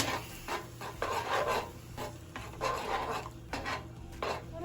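A spoon scrapes and stirs through creamy chicken in a pan as heavy cream is mixed in, giving repeated rasping strokes that are close and moderately quiet, with no talking.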